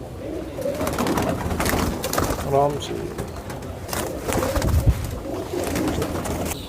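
Racing pigeons coo on a rooftop loft in Sonipat, Haryana, soft repeated throaty calls rising and falling under ongoing nearby talk and background activity.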